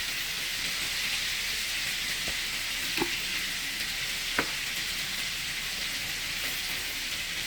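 Chopped garlic and rosemary sizzle in a frying pan while salmon grills, giving a steady, bright, hissing fry throughout. Two or three faint taps of a utensil come through, with no voices.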